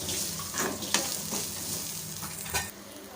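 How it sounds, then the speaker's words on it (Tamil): Mixed ingredients are stirred and sautéed in a pan on a stove, with a steady soft sizzle and repeated scraping stirs, close and alone without talk. "எல்லாத்தையும் சேர்த்துட்டு நல்லா கலந்து விட்டுக்கோங்க ஒரு ஒரு நிமிஷம் சேர்த்துட்டு வதக்கினா போதும்"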